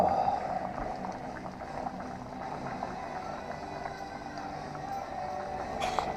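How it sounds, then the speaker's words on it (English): Pork bones simmering in a pot on the stove, a steady bubbling hiss with soft liquid pops that continues evenly throughout at moderate closeness, with no voices. "Here it is, simmering with the pork bones in there"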